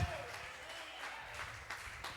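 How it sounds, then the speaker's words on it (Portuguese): Church congregation clapping in praise during a Portuguese-language evening worship service, a dense fading wash of hands with occasional louder bursts. "As palmas louvam o Senhor Jesus nesta noite."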